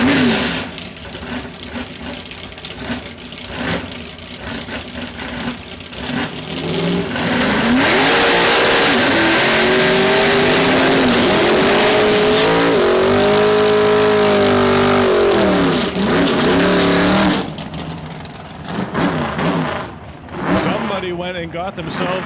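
A 1971 Dodge Challenger runs at Saskatchewan International Raceway during a test-and-tune session, its loud engine revving and climbing in pitch through the middle of the run, with a track announcer talking over it throughout.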